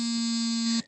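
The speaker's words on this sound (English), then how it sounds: "something's beeping" A single sustained electronic beep, loud and steady, holding one tone for nearly a second before cutting off.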